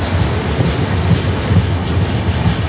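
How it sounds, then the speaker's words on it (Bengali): The Jammu Tawi Express enters platform two, heard from aboard a nearby train as a loud, continuous rumble and rattle of rail wheels with a faint clickety-clack, no voices. "দেখো দু নম্বর প্ল্যাটফর্মে ঢুকছে জম্মু তাওয়াই এক্সপ্রেস।"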